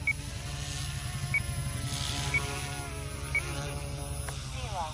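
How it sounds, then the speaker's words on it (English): A small Goosky S2 radio-controlled helicopter's motor buzzes steadily with a high whine, rhythmic ticking accents repeating about once a second, with a voice talking briefly. "Fun little helicopter."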